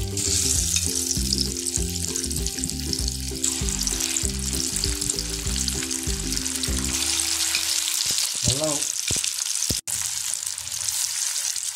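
Restaurant-style chicken 65 pieces deep-fry in hot oil with a loud, dense, continuous sizzle and bubbling, and a few clinks and splashes near the end as more pieces go in.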